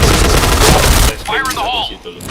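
A grenade goes off in a video game as a loud, dense burst of noise lasting about a second, then cuts to quieter game sounds with voices talking underneath.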